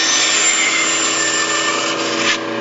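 A bandsaw cuts a relief cut straight into a piece of wood, a loud continuous whirring hum with a steady rasp of the blade, easing slightly near the end.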